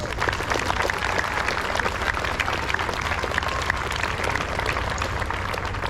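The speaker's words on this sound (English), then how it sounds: "give your family and your friends and your supporters a big round of applause" Graduates applaud their families and supporters at a 2024 middle school promotion ceremony, a steady, dense round of clapping from a large crowd filling the hall without a break.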